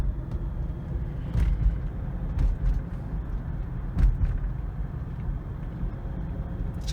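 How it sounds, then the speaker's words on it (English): Steady low rumble of road noise inside a 1997 Oldsmobile Aurora with the window down, a constant broadband roar with a few brief louder swells, no talking. "I put the window down. There's gonna be a bunch of road noise."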